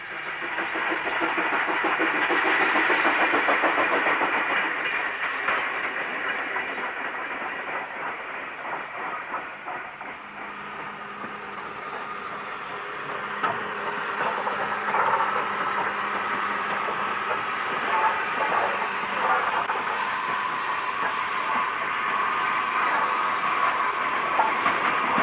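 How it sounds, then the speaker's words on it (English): Standard Class 4 2-6-0 steam locomotive 76027 of Bournemouth shed reverses with empty stock on the Somerset & Dorset line, giving a sustained rumble and clatter of rolling wheels that swells early, dips, then holds steady. "Train engine Standard Class 4 260 number 76027 of Bournemouth Shed reverses out to take its turn at moving empty stock."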